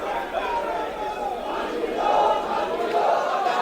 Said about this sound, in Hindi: आप देखिए थाने की तरफ एक तरफ लोगों ने भीड़ जमा कर रखी, नारेबाजी हो रही